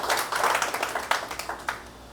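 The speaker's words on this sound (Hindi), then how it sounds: "चाहूँगी ज़ोरदार तालियां एक बार उनके लिए हो" An audience at a products training session claps loudly, with dense, close applause that rises and falls in bursts throughout.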